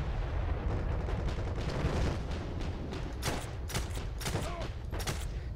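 Gunshots and distant battle fire in the video game Heroes and Generals, a dense rumbling backdrop with several sharper shots cracking through in the later seconds.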